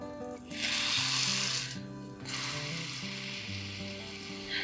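Hotteok, Korean sweet pancakes pressed flat with a wooden spatula, sizzle steadily in a hot pan, with a few louder bursts of frying over low background music.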